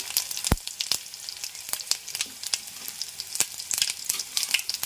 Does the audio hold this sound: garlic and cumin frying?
yes